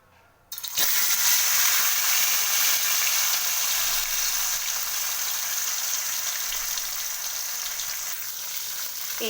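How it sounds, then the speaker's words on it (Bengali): Sarputi fish hit hot oil and fry lightly, a sudden loud burst of sizzling that settles into a steady close hiss and crackle, slowly easing in intensity. "এবার আমি মাছগুলো একটু সাঁতলে নেব, খুব ভাজবো না, হালকা করে একটু সাঁতলে নেব।"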